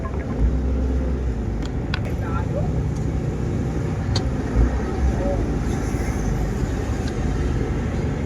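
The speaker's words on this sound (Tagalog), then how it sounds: "Medyo mabagal ang daloy ng mga sasakyan dito" Slow-moving road traffic on Quirino Highway, a constant mix of engine drone and tire noise with occasional brief clicks and a passing louder swell, steady throughout.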